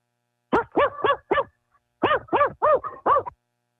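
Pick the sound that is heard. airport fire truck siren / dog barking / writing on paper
dog barking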